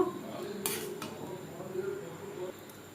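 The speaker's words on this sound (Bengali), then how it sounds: "বেশ ভালো করে মিক্সড করে দেবো আরও তিন চার মিনিট জাল দিয়ে নেব" Watermelon ice cream mixture being stirred in a pot over a gas flame, with a few sharp metallic clinks of a spoon against the pot over a steady low stirring scrape.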